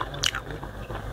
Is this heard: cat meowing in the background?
no